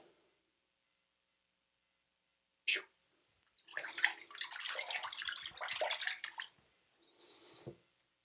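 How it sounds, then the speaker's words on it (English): Warm and cold tap water splashing while a face is rinsed after a shave, with a short splash, a pause, then several seconds of broad running-water wash and a fainter trickle at the end; close and fairly quiet. "gonna go ahead and rinse the face. Warm water, cold water"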